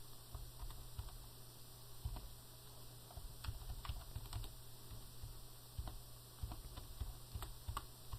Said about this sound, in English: that's when I can type it correctly